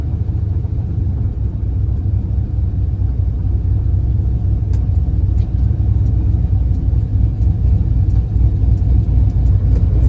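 A car engine runs steadily with a low, continuous rumble, close and loud throughout, with no talking.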